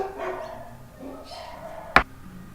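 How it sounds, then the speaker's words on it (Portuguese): The speaker's own dogs let out a single sharp, fairly close bark near the end, with faint yips and whimpers earlier over a low background. "latido dos meus cachorros"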